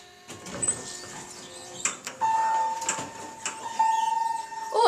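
A Montgomery/Kone hydraulic elevator in a Chicago department store basement levels at a floor, with soft mechanical clunks, a sliding door and a steady electronic tone that sounds twice near the end.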